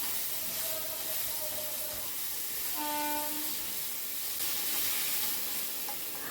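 Pumpkin and potato pieces frying in a karahi (wok) and being stirred: a close, continuous hiss of oil with scraping stir strokes and a brief tonal squeal in the middle.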